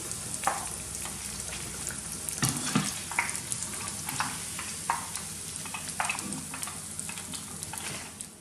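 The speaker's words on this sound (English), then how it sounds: "I've given them the first fry now, which I call setting the onion bhajis" Onion bhajis fry in hot oil with a dense, steady sizzle and crackle, close and continuous throughout, occasionally stirred, with no talking.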